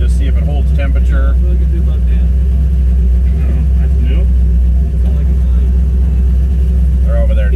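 A car with a blown LS engine rumbles steadily on a short test drive, its loud low engine drone continuous throughout, with faint voices over the top.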